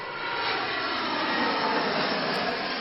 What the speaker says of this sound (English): We're on an airplane.